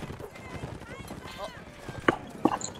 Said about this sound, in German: Hier außen ist ein Pferd.